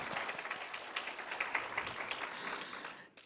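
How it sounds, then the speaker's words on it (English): Audience clapping at an International Women's Day event after a presentation, a dense, steady burst of applause from a room of people that holds evenly and then quickly dies away at the end. "let's give her another clap"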